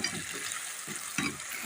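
Sliced onion and capsicum cook in a pan after half a cup of water has gone in, giving a steady bright sizzle with a few soft low stirring thumps.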